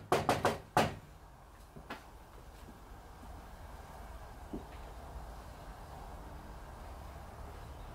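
Several sharp knocks on the wall of a trailer in the woods come in a quick burst of four near the start, followed by two fainter knocks, then a quiet hiss of ambient room noise.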